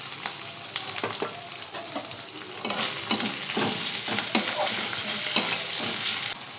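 Chopped tomato, with ginger, frying in a pan for a fried lote fish and aubergine dish, a steady close sizzle broken by repeated scraping stirs that grow busier in the second half.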